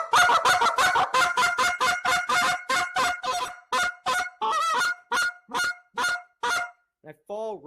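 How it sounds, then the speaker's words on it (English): A handheld goose call is blown in a rhythmic calling sequence, with a rapid run of sharp honks and clucks that slows into spaced, drawn-out honks and ends in a short, squeaky trailing note, loud and close. "That's the basic fundamental structure of sequence building in a goose call."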